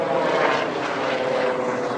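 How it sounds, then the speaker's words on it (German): Steady, loud rotor and engine roar of a helicopter passing close overhead, continuous throughout with no talking. "Da kommt ein Helikopter direkt über uns."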